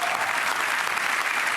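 A crowd applauds in Argentina after a speech by Lionel, a dense, even wash of clapping that stays at a moderate distance with no break.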